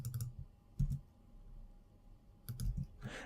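Keys on a computer keyboard clatter in a few short, quiet bursts of clicks separated by pauses, close and faint against a soft room hum.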